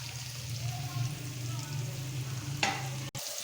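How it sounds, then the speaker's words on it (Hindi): Vegetables tossed into a hot pan for chicken vegetable pasta, giving a steady close sizzle and frying hiss with a brief clatter near the end. "ये मैं अब इसमें अपनी वेजिटेबल्स ऐड करूँगी।"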